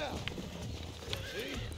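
Horse hooves clip-clop in a quick rhythm with a whinny in the Red Dead Redemption game, set in a western frontier town, close and brief with talk over it.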